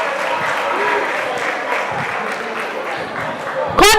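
Applause from a quiz-contest audience for a competing team during a preliminary-stage gas challenge between universities, a steady, fairly loud wash of clapping with crowd noise throughout and a sharp, brief sound at the very end.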